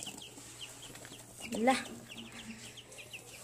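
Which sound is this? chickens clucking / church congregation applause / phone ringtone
chickens clucking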